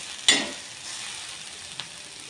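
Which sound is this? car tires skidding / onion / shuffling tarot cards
onion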